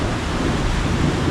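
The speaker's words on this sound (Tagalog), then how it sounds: "Idol, kumukulog." Thunder rumbles during a storm as a dense, continuous low roar mixed with heavy rain hiss, steady and fairly loud throughout the short stretch with no voices.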